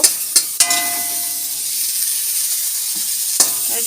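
Steady sizzling of food frying in a pan, with a few sharp clinks of a utensil and a brief tonal ring early on.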